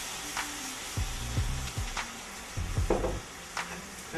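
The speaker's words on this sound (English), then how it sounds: "Next thing I'm going to pour in here is a little bit of coconut milk." Coconut milk hits a hot pan of red curry paste with a loud sizzle, broken by several short scraping stirs of a utensil across the pan.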